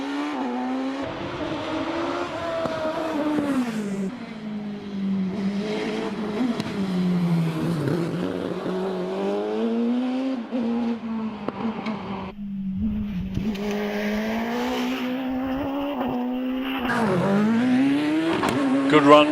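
Lee Griffiths' OMS 28 race car roars through a hillclimb run at Prescott, its engine note rising and falling with gear changes and throttle, loud and sustained, under a commentator's voice.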